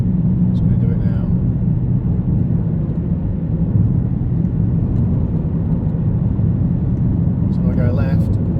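Steady low rumbling drone of a car driving with a noisy, worn wheel bearing, a continuous hum from the wheels that holds even throughout.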